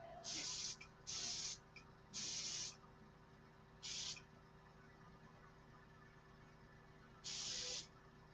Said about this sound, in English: The airbrush ain't working very good.